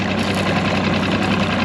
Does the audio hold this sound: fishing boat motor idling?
yes